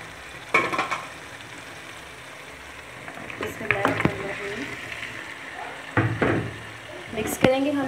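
Boiled beef sizzling and frying in a pan for a spicy chatpata beef dish, with intermittent sharp bursts of stirring and scraping over a steady low hiss, close and fairly loud.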